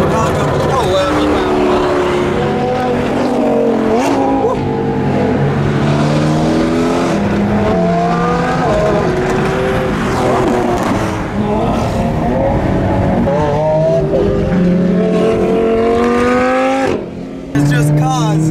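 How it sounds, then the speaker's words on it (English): Engines rev and whine nearby as cars speed through traffic, pitches climbing and falling continuously over a constant road roar. "there's cars all over. Flying around in every lane, trying to find their way through the traffic."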